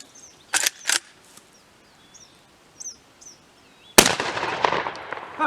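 A Deluxe Winchester 1901 lever action shotgun firing outdoors: two sharp cracks close together, a stretch with birds chirping, then a loud blast that rings out and decays.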